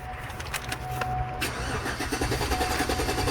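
A classic car engine at a dealer-only auction cranks briefly and catches, then settles into a steady close idle with a slight rumble, check engine light on.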